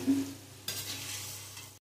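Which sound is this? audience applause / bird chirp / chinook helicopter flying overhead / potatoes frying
potatoes frying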